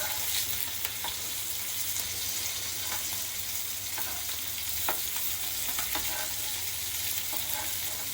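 Mandeli fish coated in rawa sizzle steadily in an oil-filled pan as the pieces are flipped, a continuous close hiss dotted with soft taps and scrapes, without any voices.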